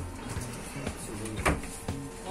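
Large storage drawers in a Ford F-4000 4x6 expedition camper vehicle slide and clunk open and shut, several soft thumps and rattles at close range, fairly quiet, with no speech.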